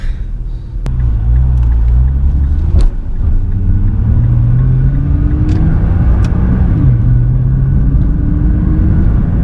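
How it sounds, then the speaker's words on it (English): A turbocharged 2010 Nissan GT-R engine rumbles and pulls through rising revs, with sharp blow-off valve clicks and quick gear shifts breaking the steady drone, loud and close from inside the car. "You could really hear those turbos."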